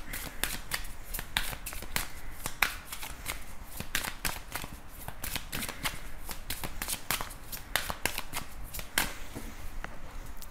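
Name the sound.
shuffling tarot cards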